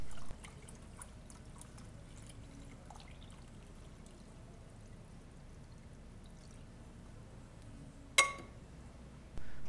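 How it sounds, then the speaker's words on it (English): Borax solution, roughly 20 spoonfuls of borax per 1,000 ml of water, is poured into a container as a steady, soft, continuous liquid stream. A brief sharp clink comes near the end. "borax solutions being poured into the container"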